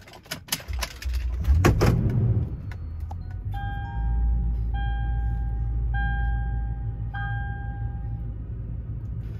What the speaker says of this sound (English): I'm just gonna get in my truck and try to bring the truck in